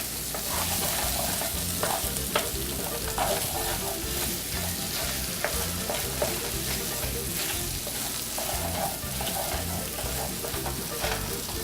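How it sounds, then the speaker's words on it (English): Tomato paste fries with onions and bacon in a pot for Italian short ribs, giving a continuous close sizzle with occasional soft scrapes of a stirring utensil and no voices. "And we'll add this now and stir this together. And we'll just wait until that tomato paste turns slightly dark."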